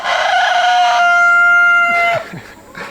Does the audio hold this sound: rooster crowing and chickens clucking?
yes